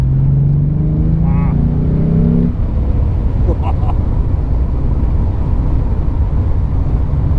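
Morgan Roadster with a 3.7-litre V6 engine, a low steady engine drone close by that rises in pitch near the start, then settles into a broad rumbling roar as the car accelerates.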